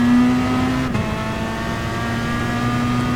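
Race car in Gran Turismo Sport pulling out of a corner: a steady engine drone with a brief dip near the start, then a smooth sustained tone as the throttle holds, close and loud, with no voices.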